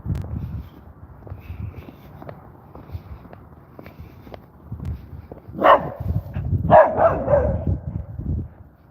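A dog on a night walk through a downtown Louisiana street barks in short, sharp bursts, a couple of loud barks close by late on, between scattered footsteps and faint street noise.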